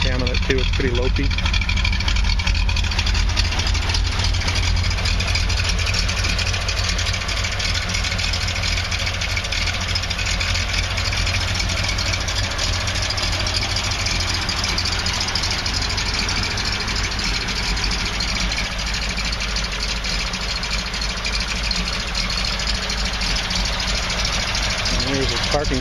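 A 1968 Triumph TR250 engine idles steadily and loud throughout, its lopey cam giving an uneven, loping rhythm, with someone talking over it.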